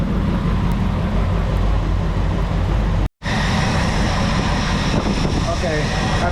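A Ford 390 FE V8 idling in a 1967 Thunderbird after a tune-up, a loud, close, steady rumble with a brief cut midway before it carries on.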